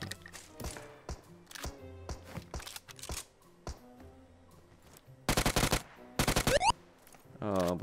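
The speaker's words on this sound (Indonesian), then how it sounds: "Oh, botnya nembakin orang." Gunfire from a bot in a battle royale video game: a few sharp bursts of automatic shots near the end, loud and close, following scattered game sounds and brief talk.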